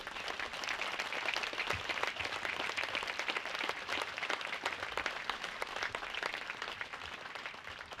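An audience at a military change of command ceremony at an air station applauds for a family, dense, sustained clapping from a sizable crowd, fairly distant and even throughout.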